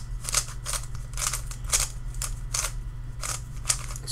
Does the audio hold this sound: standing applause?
no